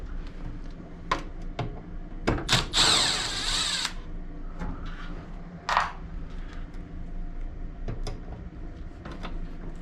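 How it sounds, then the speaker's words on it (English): A power drill pulls motor screws from an LG Multi V concealed duct unit, one loud whirring burst of about a second, then faint clicks and handling noise over a steady mechanical hum. "let's get the 4 screws out"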